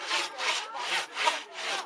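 Close, rhythmic rasping of a hand saw pushed and pulled through a wooden maypole trunk at an outdoor village felling, about five even strokes with no voices over them.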